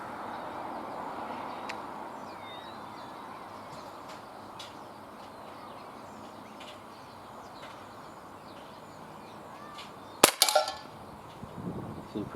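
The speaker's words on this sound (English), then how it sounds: "I might have to shoot a little high." Outdoors, a Glock 17 pistol is fired at distant cans. A couple of sharp, loud cracks come near the end after a long stretch of quiet ambience with faint birdsong.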